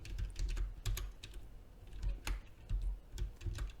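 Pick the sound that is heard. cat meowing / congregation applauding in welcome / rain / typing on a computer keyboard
typing on a computer keyboard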